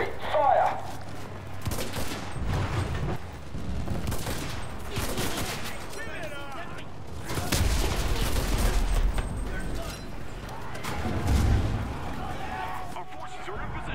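An artillery barrage in the video game Enlisted thunders as a dense fusillade of booms and rapid gunfire, loud and layered with bursts of low rumbling explosions, while voices talk under the battle.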